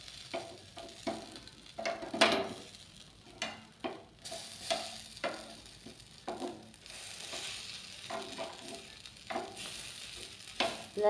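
Gunta punugulu (small Andhra batter dumplings) frying in oil in a pan while being turned over, with repeated clicks and scrapes of the utensil over a faint steady sizzle, no talking.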